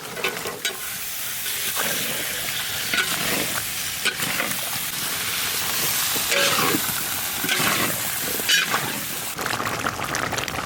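Cumin seeds and bay leaves fry in hot oil in a pan, giving a loud continuous crackling sizzle broken by scraping stirs and occasional spatters.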